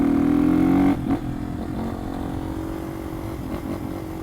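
Yamaha XT225 dual-sport motorcycle fitted with a loud, non-stock exhaust, its engine droning steadily up close, with a louder revving stretch at the start before settling into a lower, even running note.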